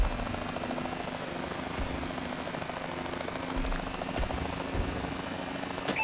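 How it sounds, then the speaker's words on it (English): An enemy assault drone in Call of Duty: Advanced Warfare multiplayer flies overhead with a steady whirring rotor drone, a continuous moderate hum with faint crackles, and no talk over it. "Enemy assault drone incoming."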